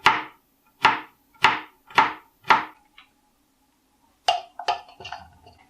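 A kitchen knife chops garlic on a cutting board in a home kitchen, five sharp, evenly spaced knocks followed after a pause by a quicker, irregular cluster of lighter taps, close and clear with no voices.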